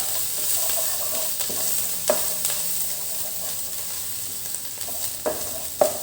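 Thai curry paste dry-roasting in a pan for a three-flavour chili sauce, a continuous soft sizzle broken by occasional scraping stirs of a utensil, no speech.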